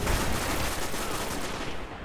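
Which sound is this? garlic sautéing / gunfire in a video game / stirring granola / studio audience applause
gunfire in a video game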